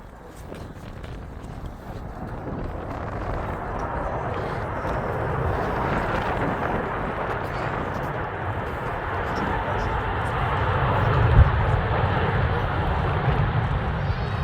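Heavy Emirates Airbus A380 taking off at Manchester Airport, a broad, rushing jet roar heard from a distance that builds steadily and swells to its loudest near the end.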